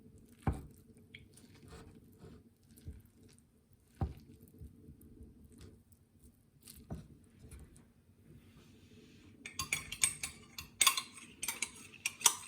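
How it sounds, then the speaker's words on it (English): Sushi rice being cut and mixed with a paddle, with soft sticky squishes and light taps against the bowl at irregular intervals, close and quiet, turning busier and denser toward the end. "This cutting motion is as key to sushi rice texture."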